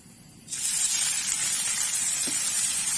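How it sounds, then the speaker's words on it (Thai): Pounded chili paste dropped into hot oil to roast for a Thai frog curry, bursting into a loud, steady hiss and crackle that starts suddenly and keeps sizzling evenly close by. "เดี๋ยวเอาพริกของลงมาคั่วเลยนะครับ"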